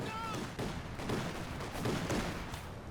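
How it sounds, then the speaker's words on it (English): Company of Heroes 2 battle with a Soviet T-70 tank and guards rifles firing, a steady distant crackle of gunfire and muffled booms throughout at low level. "Another squad getting torn apart by the T-70 as well as the guards' rifles with grenades"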